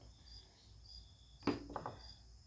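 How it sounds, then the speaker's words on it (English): Faint crickets chirp in steady, high pulses against a quiet outdoor background, briefly interrupted by a nearby thump and rustle. "you can already probably still hear the crickets chirping"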